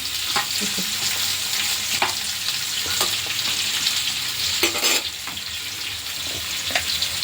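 Onions sizzle steadily in a pan for tomato chutney, a continuous close frying hiss broken by occasional sharp stirring scrapes and clicks.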